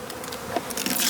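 Honey bees buzzing at a wintered hive at a university apiary, a steady soft hum with a few brief louder passes, fairly faint and with no talking.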